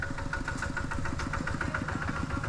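A tractor engine in a village in Laos chugs steadily nearby, a loud rhythmic low thumping idle that continues throughout.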